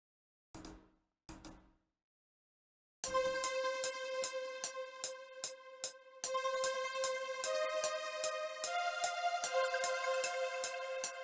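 Two brief muted hits give way to a simple four-note melodic synth pattern in an FL Studio beat, looping bright plucked tones in an even rhythm, clean and close, later joined by a fuller layer.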